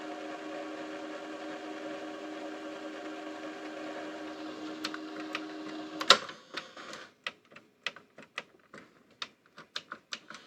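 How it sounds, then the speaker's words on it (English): A National NV-250 VHS VCR spools its tape in rewind and fast forward with a steady mechanical whine, which stops with a clunk and gives way to a quick series of sharp clicks and clacks from the transport mechanism. "Does it rewind and fast forward function?"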